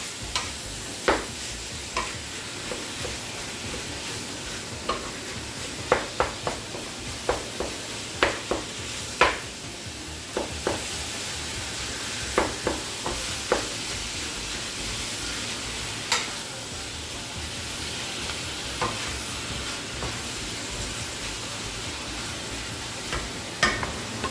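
Ground pork sizzles steadily in a pan while a utensil stirs it, giving a constant frying hiss broken by regular sharp scrapes and clinks against the pan.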